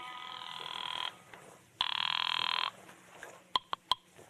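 An old-time telephone bell rings in two long electric bursts inside a classic detective radio drama, followed by a few short clicks, heard clearly with no talk over it.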